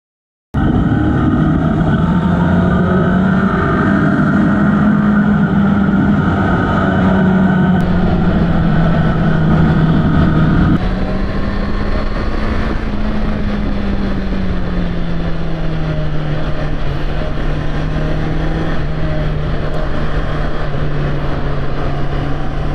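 A Honda CBR650R motorcycle engine drones steadily in third gear on a curvy, twisty European road. The tone is loud and continuous, with the pitch rising and easing as the rider takes the bends, and no talking is heard.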